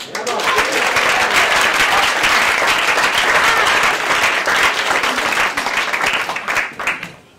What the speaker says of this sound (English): Let's give a round of applause for Emma Pizzey.